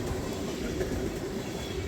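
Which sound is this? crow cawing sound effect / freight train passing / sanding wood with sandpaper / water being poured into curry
freight train passing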